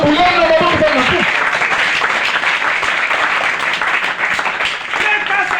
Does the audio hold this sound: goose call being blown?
no